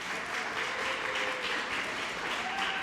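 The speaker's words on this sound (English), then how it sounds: "So if I could have a round of applause for Matt." Applause at a press conference on a community grant reinvestment fund: a room full of people clapping in a steady, even burst that lasts throughout, with no one speaking.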